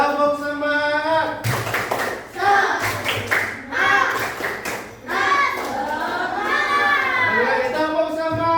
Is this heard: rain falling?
no